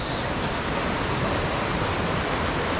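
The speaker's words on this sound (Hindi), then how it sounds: "हाँ तो पानी का फ्लो जो है वो तेज़ है, मतलब इतना तेज़ नहीं है बट स्टिल तेज़ है।" Fast-flowing river water at Rishikesh rushes as a steady, loud broadband roar that fills the whole moment without a break, close by and continuous.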